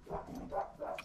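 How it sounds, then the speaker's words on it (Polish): Dog barking indoors, a few muffled, moderately loud barks in quick succession over about a second, with no speech. "Maksymilian coś zaczął szczekać."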